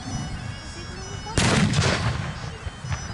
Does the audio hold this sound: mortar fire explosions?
yes